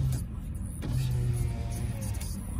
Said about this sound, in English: It's gonna hear the motor of the window.